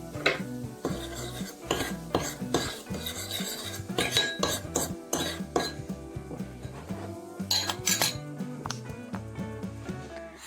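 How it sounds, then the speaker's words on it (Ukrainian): Cookie dough is mixed in a bowl after slaked baking soda goes in, giving quick repeated clinks and scrapes of a utensil against the bowl, heard alongside background music. "Додаю гашену соду у тісто, продовжую перемішувати."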